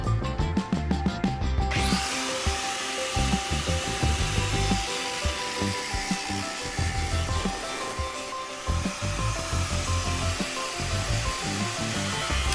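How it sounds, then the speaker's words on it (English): A big angle grinder cuts out rusty body metal on an Alfa Romeo 145 Cloverleaf, a loud continuous abrasive hiss and whine that rises sharply after a brief rougher start and carries on close up without speech. "Some areas can be a little challenging to cut out because you've got such a big grinder"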